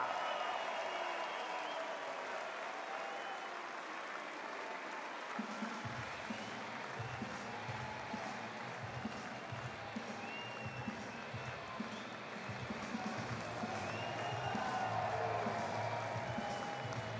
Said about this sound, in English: nous allons commencer, mesdames et messieurs, par applaudir très fort et par encourager l'équipe d'Autriche